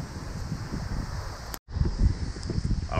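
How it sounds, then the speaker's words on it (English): Strong wind gusts buffet the microphone while panfishing outdoors for bluegill, a steady roaring rumble with a brief dropout midway, then more blustery noise and faint rustling. "I'm fishing in high wind."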